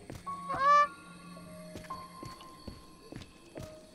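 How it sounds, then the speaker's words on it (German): Geese in the survival video game The Forest let out a sharp, close honk, followed by softer scattered calls and light clicking sounds against a quiet background. "Ach, Gänse!"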